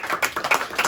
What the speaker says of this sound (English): I want everybody to give her a little warm round of applause